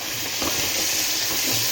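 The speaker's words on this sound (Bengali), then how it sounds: "এখানে ভাজা হচ্ছে লাল করে শিম ভাজা" Broad beans frying in hot oil until reddened: a loud, continuous sizzling hiss at close range, even and unbroken for the whole moment.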